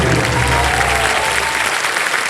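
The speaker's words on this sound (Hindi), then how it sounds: "जोरदार तालियां" A TV quiz show studio audience applauds loudly, a dense burst of clapping that fills the short moment and tapers slightly at the end.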